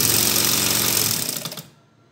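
A sewing machine stitches a churidar pajama in a fast, loud, steady run of needle strokes that slows and stops near the end.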